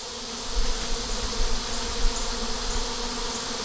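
Honeybees swarming outside their hive on a hot day, a steady, dense buzzing hum from many insects close by, with slight swells in loudness.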